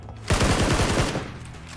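Close, rapid burst of automatic gunfire in PUBG, roughly a second of sharp repeated shots standing out loudly over quiet game background.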